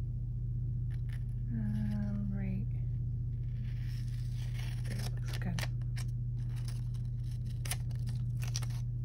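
Scissors snip and slice through paper in a few short bursts over a low steady hum, with a voice speaking briefly amid the cutting.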